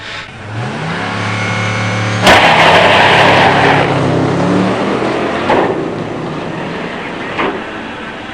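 A 1969 Cougar Eliminator with a 428 CJ four-speed and a 1969 Chevelle with a 396 automatic launch at a drag strip, engines revving hard and shifting through rising pitches, loud at first then fading with distance, with sharp bangs along the way.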